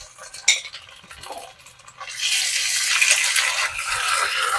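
Ginger paste stirred and frying in a pan for Bengali methi saag, with scraping clinks early on, then a loud steady sizzle filling the rest.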